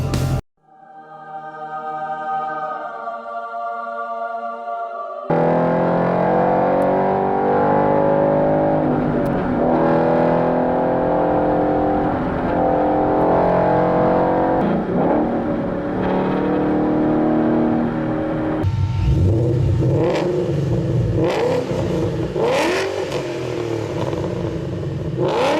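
Ford Coyote 5.0 V8 engine revving hard through repeated rising and falling sweeps, loud and close, with sharp changes in pitch, after a short musical opening.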